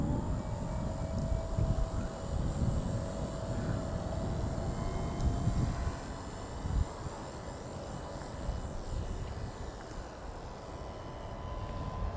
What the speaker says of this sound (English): You have to let it spool up so it gets up some rotor speed.